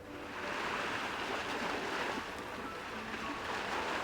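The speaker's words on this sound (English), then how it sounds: "why do I hear waves on your end?" Ocean waves surging steadily on the far end of a phone call in the game Love and Deepspace, a continuous broad wash of surf with no speech over it.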